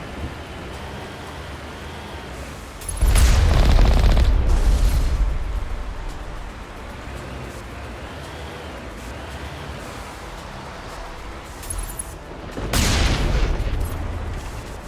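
Artillery fire and explosions in the video game Mass Effect: two heavy, loud booms with deep rumbling tails a few seconds long, separated by a stretch of low, steady ambient noise.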